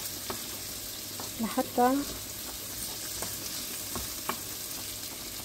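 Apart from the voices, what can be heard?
garlic frying in a pan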